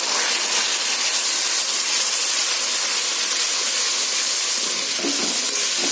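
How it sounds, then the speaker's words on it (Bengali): Spice masala of coriander and turmeric powder sizzles in a pan for potato dum, a dense, close, continuous hiss with faint stirring scrapes near the end and no voices. "এই মশলাটাকে ভালো করে মিশিয়ে নেব"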